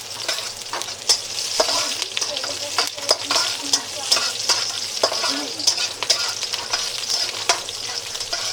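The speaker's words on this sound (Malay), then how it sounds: "Dan sedikit bawang putih. Tumiskan dia." Onion and garlic sautéing in a hot pan, a continuous bright sizzle broken by repeated sharp scrapes and knocks of a utensil stirring, close and fairly loud with no voices.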